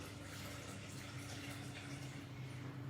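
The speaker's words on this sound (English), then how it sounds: "just pop in your water" Water poured into a Thermomix jug for mulligatawny soup, a steady continuous rushing splash lasting the whole moment, fairly even in loudness with no talk over it.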